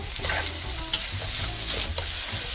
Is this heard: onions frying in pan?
yes